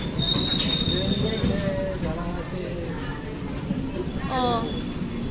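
Train pulling into a station platform, a continuous rumble of wheels with faint squeals, while people talk over it.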